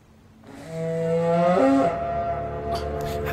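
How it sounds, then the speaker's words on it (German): A low, lowing horn call from the video game Brothers: A Tale of Two Sons swells up, bends in pitch near its peak and then fades, heard alone without speech. "Ist das nicht dieser Tröten-Sound hier, dieser Horn-Sound, den wir die ganze Zeit gehört haben?"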